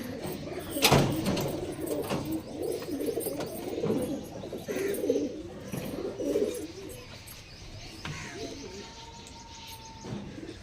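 Pigeons, including Andhra breed birds kept in a loft, coo in a busy mix of low murmuring calls that fill the scene at moderate loudness, with a brief sharp knock early on and no talking.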